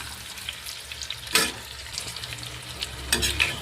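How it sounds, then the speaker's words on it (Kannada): Green chilies and onion frying in a pan, a steady soft sizzle with a couple of sharper stirring scrapes, heard close and alone without talk. "ಮೆಣಸಿನ್ಕಾಯಿನೂ ಅಷ್ಟೇ ಪೂರ್ತಿ ಫ್ರೈ ಆಗಬೇಕು ಈರುಳ್ಳಿ ಹೆಂಗೆ ನೋಡ್ರಿ ಆ ರೀತಿ ಇದು ಫ್ರೈ ಆಗಬೇಕು"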